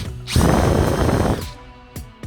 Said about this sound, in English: Nice sharp 332 drill. Got to use sharp drills on this.